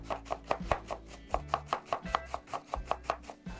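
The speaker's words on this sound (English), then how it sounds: "I don't want to chop it up into tiny pieces. I want to kind of just have it into strips" A knife chops through purple cabbage on a cutting board, slicing it into strips with a steady, quick series of about fifteen crisp close-up strikes, alone with no talking.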